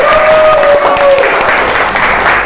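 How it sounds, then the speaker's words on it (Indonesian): A class of students applauds on cue, a loud dense wash of clapping hands filling the room, steady throughout with a faint voice underneath. "Oke, tepuk tangan dong."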